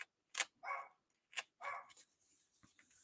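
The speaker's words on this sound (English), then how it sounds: "where's the dog alarm going off?" A dog barks in a few quick, sharp yaps with short gaps between them, moderately close, followed by faint softer noises, with no talking.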